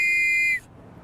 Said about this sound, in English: He adopted the sound for a whistle he was making for the Metropolitan Police